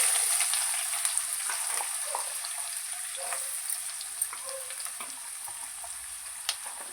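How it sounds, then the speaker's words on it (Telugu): Cumin and mustard seeds frying in hot oil, a thin continuous high sizzle with occasional small pops, steady and fairly quiet, no voices. "జీలకర్ర ఆవాలు వేగిపోయినాయి."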